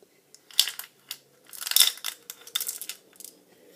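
Small tumbled crystal stones clink and clatter together in a quick, irregular series of bright taps, close by with no talking.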